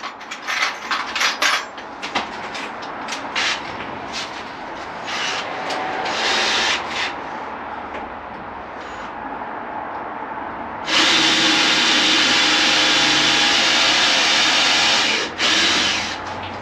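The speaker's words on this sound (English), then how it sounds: "we're going to actually use a drill to drill a pilot hole for this one." A power drill whirs and grinds through wood, boring a pilot hole for a large screw, starting in short bursts and then running in a long, loud steady spin before stopping and briefly restarting.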